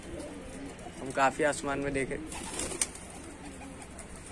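Pigeons coo in soft repeated throaty calls at middle distance, with someone talking over them.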